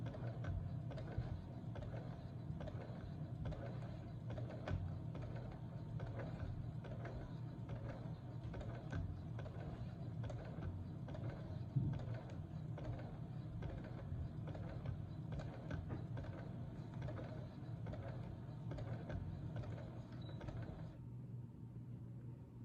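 A sewing machine runs steadily at slow speed while quilting a fabric border, its needle mechanism clicking in a close, continuous mechanical rhythm that cuts out near the end.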